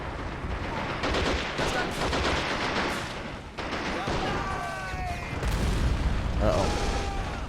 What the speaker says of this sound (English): They are firing those damn AT guns again, though.